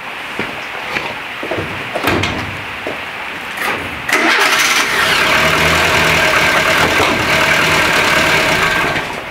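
A car engine is cranked with a TOPDON JS2000 battery booster, sputtering through a few attempts before catching and settling into a steady, loud idle with a faint whine.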